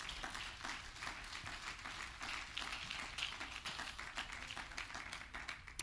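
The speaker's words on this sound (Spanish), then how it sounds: "dale un fuerte aplauso" A church congregation gives a strong round of applause, a dense, steady patter of many hands clapping at moderate distance, sustained evenly throughout without any voices.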